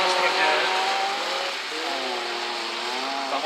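A rallycross car at the Sedlčany track on a muddy clay surface, its engine roaring loudly as it races into a corner, the note shifting and revving under a commentator's voice.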